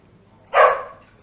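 A single sharp dog bark, close and loud, rising abruptly out of a quiet room and trailing off quickly.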